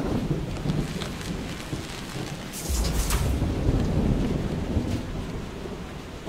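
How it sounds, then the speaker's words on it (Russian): Thunderstorm in the airship game FAR: Changing Tides: steady loud rain and wind with a heavy rumble of thunder rolling in midway, close and enveloping, with no voices. "Нам нужно выбраться из этой грозы."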